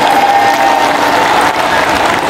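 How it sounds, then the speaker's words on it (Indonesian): A crowd applauds at an Indonesian political rally for the Anies–Muhaimin campaign, continuous dense clapping with a steady tone underneath, loud and without pause. "Tepuk tangan untuk beliau"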